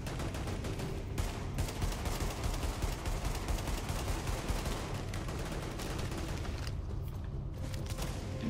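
Sustained gunfire in The Division, a third-person shooter video game, with dense overlapping shots and bursts that keep up continuously throughout at a steady, loud level.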